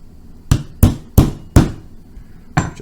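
Five sharp metallic taps ring out as a flattened nail is struck to drive a pin out of a Taurus PT111 G2 pistol, the hits spaced unevenly, close and fairly loud with a short ringing decay and no talking.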